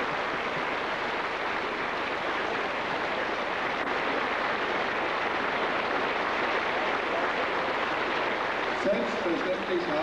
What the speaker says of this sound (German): Sie haben alle noch einmal einen Applaus verdient.